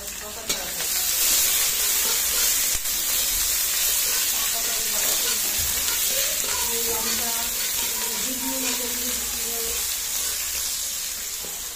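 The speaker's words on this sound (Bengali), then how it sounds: "পেঁয়াজটা একটু লাল লাল করে ভেজে নেবে" Chopped onions frying in a pan until reddish-brown, cooked before mutton is added: a continuous crackling sizzle with occasional stirring scrapes and faint background voices.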